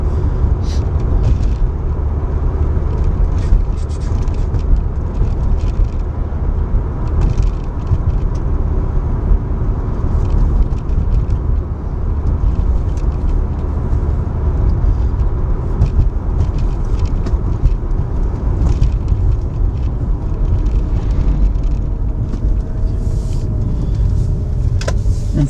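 A Mazda RX8 with its 1.3 rotary engine drives along at low revs, heard from inside as a constant deep road rumble and smooth engine hum with faint ticks and rattles, no voices.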